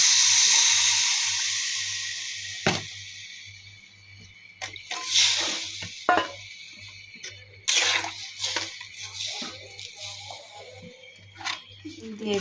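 Water poured into a hot pan of fried onion with turmeric, chili, salt and coriander powder gives a strong hissing burst of steam that fades over several seconds, with sharp sizzling crackles and scraping after it.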